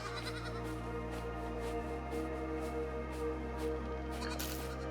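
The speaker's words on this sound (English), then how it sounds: "look, here's some moving sheep." Sheep bleating in the video game AER: Memories of Old, heard as faint repeated short calls over a steady musical soundtrack with a low drone that shifts partway through.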